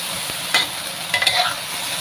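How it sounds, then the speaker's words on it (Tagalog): Beans stir-fried in a pan in a hot kitchen, giving a steady broadband sizzle with a few louder scraping stirs near the middle and just after, no voices. "niluluto ko na ang beans"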